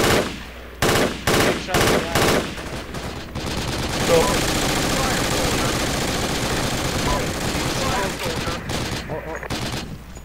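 Loud gunfire in the Project Reality military shooter game with US infantry: several sharp separate shots open, then a dense, sustained roar of rapid automatic fire continues to the end.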